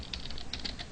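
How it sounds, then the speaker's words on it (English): Typing on a computer keyboard: quick, close key clicks coming in short irregular bursts over a low background hum, with no voice. "I need to type this slow before I teach you"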